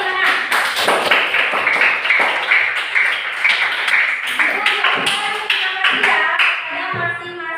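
Classroom audience gives a round of hand claps for a student group's presentation, sharp individual claps scattered and uneven across several seconds, with voices talking over them.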